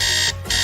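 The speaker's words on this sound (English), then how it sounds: "if I hear that alarm one more time" An alarm clock rings loudly and continuously in a short burst with a brief dip midway, alone with no talk.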